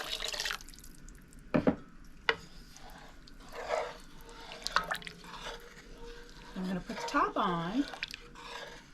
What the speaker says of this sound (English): I'm going to add in that rest of the 2 cups of water.